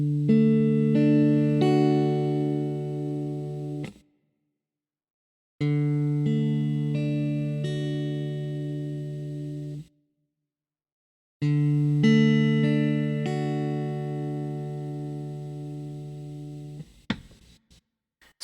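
A guitar chord strummed and left ringing three times, each sustained for several seconds and then stopped dead, with short silences between and a small scrape at the end.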